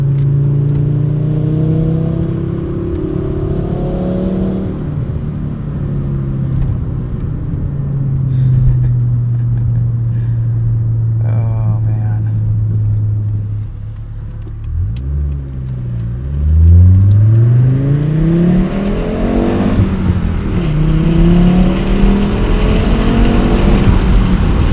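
A Volvo 850 R on a backroad, engine droning steadily at cruise, then revving and accelerating through several rising pulls, loud and close from inside the car with no talk.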